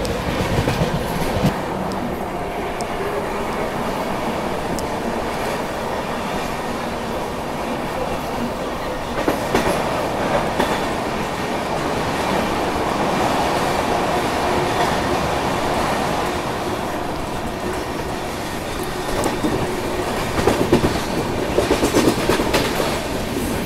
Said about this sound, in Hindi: तो ये पता नहीं कौन सी ट्रेन अभी क्रॉस हुई